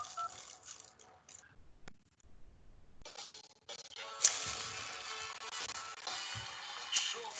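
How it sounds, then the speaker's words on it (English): Electronic DTMF-style beeps sound from a mobile phone during a quiet mathematics lecture, a run of short tone bursts growing into a dense, continuous stretch of bright tones, fairly loud and close with no talk over them. "I do not know why these sounds start to appear from my mobile phone"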